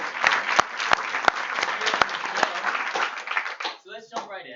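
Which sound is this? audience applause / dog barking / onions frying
audience applause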